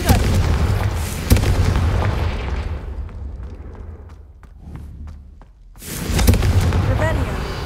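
Fire spells Incendio and Confringo bursting in the Hogwarts Legacy video game on Xbox Series X, with loud booming blasts and sharp bright hits, a quieter stretch midway, then another heavy roaring burst near the end.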